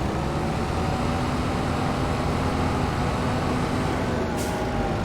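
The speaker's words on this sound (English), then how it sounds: "Let's bring our tractor back over to the farm." A tractor in Farming Simulator 22 drives steadily back toward the farm, a continuous loud engine drone with low rumble and broadband road noise that holds constant throughout, no talking.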